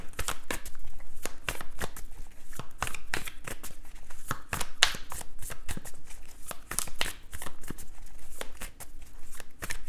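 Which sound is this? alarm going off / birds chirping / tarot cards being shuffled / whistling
tarot cards being shuffled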